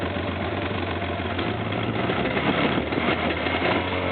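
An engine idles steadily after a cold start, having sat all day in cold weather after a big storm, a low rumbling drone with a slightly rough knock, close and constant throughout.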